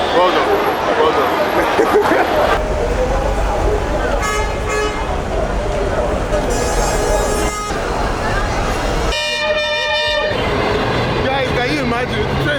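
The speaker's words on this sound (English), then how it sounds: "The train is the first time I've seen this train passing." A train passes by in Lagos, Nigeria with a steady rumbling roar, sounding its horn in several loud toots, while people talk and shout nearby throughout.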